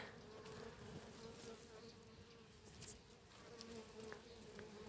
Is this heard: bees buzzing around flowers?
yes